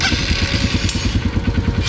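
Motorcycle engine running on a solo ride through Vietnam, already warmed up and started on the first try: a steady, close, loud rhythmic putter with mechanical clatter throughout, and no talk.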